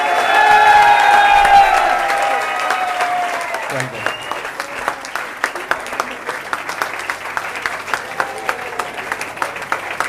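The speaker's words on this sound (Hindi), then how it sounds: "तो जोरदार तालियों के बीच second generation of RCM mister Vishal Vatsa." An audience gives loud applause to welcome Vishal Vats onto the stage, with dense clapping from a large crowd that follows a fading amplified voice and thins into rhythmic individual claps.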